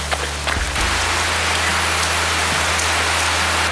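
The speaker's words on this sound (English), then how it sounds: "It's raining." Steady rain pours down continuously outdoors, a dense close wash of drops hitting surfaces with no pauses.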